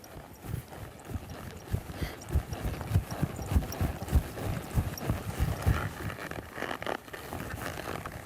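Horse trotting outdoors during a riding lesson, with quick, rhythmic hoofbeats thudding close to the microphone throughout, some wind rustle behind them, and no talking.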